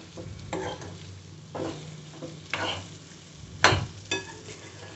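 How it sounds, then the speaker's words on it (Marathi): A spice tempering sizzles in a pan for raw mango chutney while a spoon stirs it, giving a steady frying hiss broken by several louder scrape-and-stir bursts close by. "लगेच फोडणी मिक्स करायची आहे, नाहीतर जळेल ती फोडणी"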